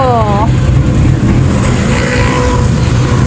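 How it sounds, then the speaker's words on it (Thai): Fast cars pass along a busy street in Galle, Sri Lanka, their engines roaring loud and close in a continuous wash of traffic, while people talk over the noise. "ต้องระวังรถที่นี่ซิ่งมาก"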